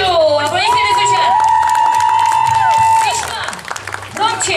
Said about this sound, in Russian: Аплодисменты звучат!